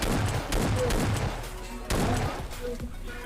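S12K shotgun blasts in the mobile game PUBG Mobile Lite: two heavy, close bursts of rapid firing separated by a short lull, dense and loud throughout.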